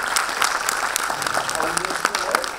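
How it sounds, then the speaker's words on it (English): A conference audience applauds the panelists after a sustainability discussion, dense clapping throughout the short moment, with a speaker talking over it. "Please give our panelists a round of"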